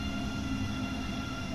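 A Swiss Federal Railways suburban train in the Train Sim World 2 simulator, heard as a steady mechanical hum and low rumble of the running train, fairly quiet and continuous with no speech.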